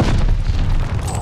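A shotgun fires in the Call of Duty Vanguard game, a single deep booming blast with a rumbling tail that dominates the short moment, no talk over it.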